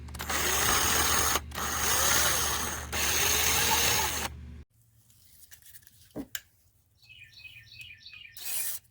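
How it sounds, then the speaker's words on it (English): A power drill boring into a golf cart battery terminal, with three loud, close bursts of steady whirring separated by brief pauses, followed by quieter handling clicks and faint chirps. "I think I can drill down in this battery a little bit further"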